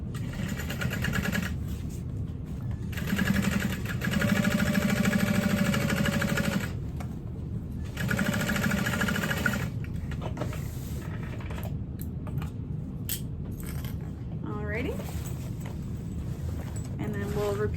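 A sewing machine stitches a backpack lining seam at half-inch allowance in several bursts of rapid mechanical whirring separated by pauses, with handling clicks and rustles between runs while someone talks.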